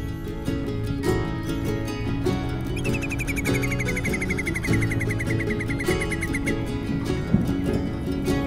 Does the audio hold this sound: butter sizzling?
no